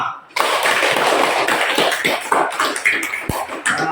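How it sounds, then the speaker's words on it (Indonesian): Children in a classroom applaud, a dense round of many hands clapping close by that thins into scattered claps, with voices mixed in. "Tepuk tangan untuk kita semua."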